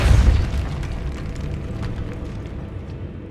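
A spell blast from the Hogwarts Legacy video game bursts with a deep, heavy boom at the start, then a rumbling, crackling tail that slowly fades, with no speech.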